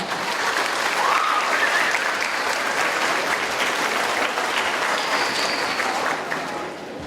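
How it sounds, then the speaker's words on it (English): Sustained applause from an audience at a school winter band concert, a dense, even wash of many hands clapping for about seven seconds before tapering slightly at the end. "Let's give them a round of applause."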